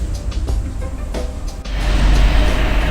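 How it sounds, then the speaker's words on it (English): City buses pulling out from a bus stop, a low engine rumble that swells louder and rougher as they accelerate away, with steady traffic noise around it. "I just missed like 2 or 3 buses as I was walking up. They were pulling out."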